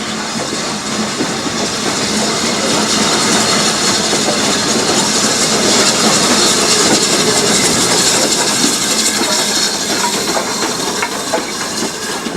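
A Cantabrian mogul narrow gauge steam locomotive, built in 1906, nearing the end of its journey in Spain, with a steady loud hiss of steam and rolling rail noise filling the whole stretch without a break.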